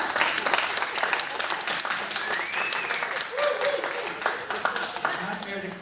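An audience claps in a show-of-applause vote at a debate, a dense and steady burst of many hands with scattered voices and a few whoops rising over it.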